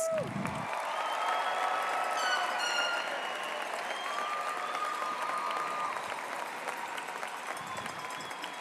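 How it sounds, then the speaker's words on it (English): Sustained applause for graduates at a university fall commencement ceremony, a broad steady wash of many hands clapping from a large crowd with scattered cheers and whistles throughout. "let's give those graduates a round of applause"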